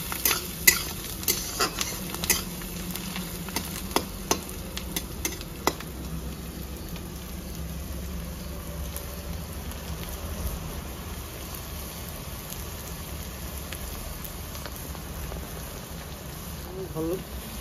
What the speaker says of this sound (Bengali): পেঁয়াজটা ভালো করে ভেজে নেবো, লাল লাল করে ভেজে দিতে হবে পেঁয়াজটা ভালো করে।